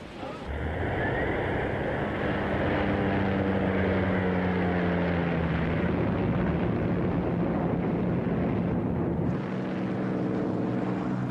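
Allied reconnaissance aircraft fly over the northern French coast in autumn 1943, a loud propeller engine drone that rises and shifts in pitch as it passes, with a wash like surf beneath and a faint voice.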